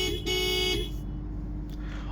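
A 2026 Honda Civic Sport Hybrid car horn gives a short, loud, steady honk, followed by a fading tail of ambient noise.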